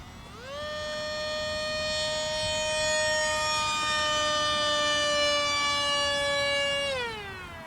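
A Hobbyzone AeroScout S2 1.1 m RC plane fitted with a bigger propeller passes with a sustained, steady high-pitched motor whine that holds for several seconds, then drops in pitch and fades; no talking.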